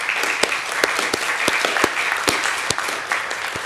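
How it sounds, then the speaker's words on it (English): A seated audience applauds a panel of three speakers at a conference session on gender, water and sanitation, giving steady dense clapping with a few sharper individual claps throughout. "let's have a big round of applause for our three panelists."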